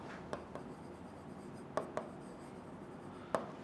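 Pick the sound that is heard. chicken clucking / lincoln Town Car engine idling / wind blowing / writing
writing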